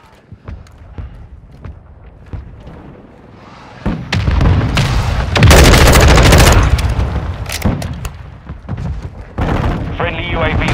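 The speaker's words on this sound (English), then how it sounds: "Our mortar strike is inbound." Heavy blasts from a mortar strike in the game Call of Duty Modern Warfare 2 on an invasion map: quiet scattered pops, then a loud sustained roar of explosions and gunfire swelling midway and continuing to the end.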